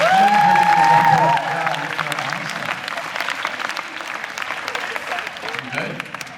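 A crowd at a Relay for Life event applauds steadily with dense clapping and some cheering, a voice briefly rising above it at the start before the clapping carries on alone.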